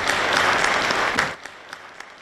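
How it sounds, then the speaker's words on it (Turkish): Applause from an audience in a hall, a dense wash of many hands clapping that stops abruptly, followed by a few stray claps and quiet room tone. "Mahtumkulu Firaki belgeselinin çekimlerine başlanacağı müjdesi ise salondan alkış aldı."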